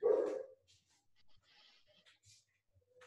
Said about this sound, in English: Hang on, my dogs want to be on the podcast.